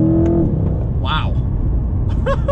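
A 2020 Chevrolet C8 Corvette launches hard under launch control, its engine a low, steady rumble beneath excited voices inside the cabin.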